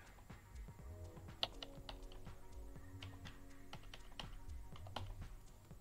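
Light typing on a computer keyboard while entering an ID to close an AWS account, a quiet, irregular run of soft key clicks with no talk.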